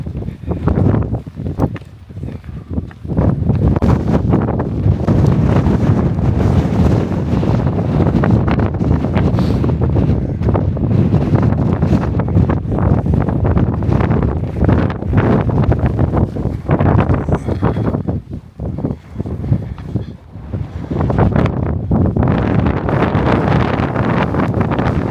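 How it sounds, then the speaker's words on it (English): Strong, roaring wind buffets the microphone in sustained gusts on a mountain summit in the White Mountains, loud and continuous with brief lulls, no voices. "the wind's going to be gusting"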